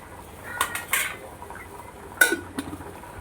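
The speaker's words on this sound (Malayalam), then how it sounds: "മഞ്ഞൾപ്പൊടി ഇട്ട് നന്നായിട്ട് ഇളക്കുക." Boiled potatoes being stirred with turmeric in a pot, a few sparse scrapes and clinks of a spoon against the pot, close but light, separated by quiet gaps.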